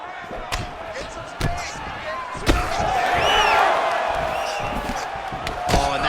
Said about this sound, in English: Punch elicited a reaction from the crowd.